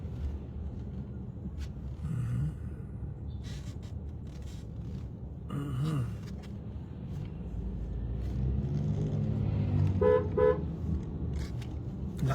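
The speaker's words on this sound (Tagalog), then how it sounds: "Lakas ng busina ko, no?" Several short car horn honks sound amid steady road traffic rumble and engine noise, one burst of beeps clearly louder near the end.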